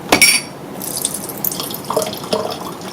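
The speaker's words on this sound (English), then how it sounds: "when you think you have enough water, stop pouring, and you can pour the rest in the sink" Water pours and splashes into a small plastic toy baby bath, a short trickling gush with a few drips and light bright splashes, close and alone.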